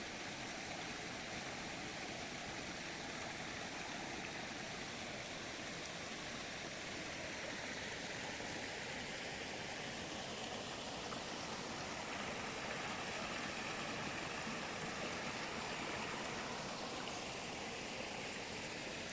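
Spring water flows steadily into a clear pond at Gökpınar pond in Gürün, Sivas, making a continuous broadband rushing, gurgling sound, close and even throughout, with no voices.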